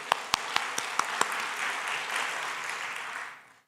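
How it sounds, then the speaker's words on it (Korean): A church congregation at Wangsung Church breaks into dense, lively applause, with a few sharp, close claps at the start before the crowd clapping fades out. "그 하나님께 영광의 박수, 영광의 박수."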